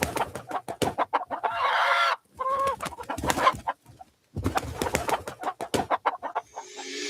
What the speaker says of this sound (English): Uh-oh, chicken.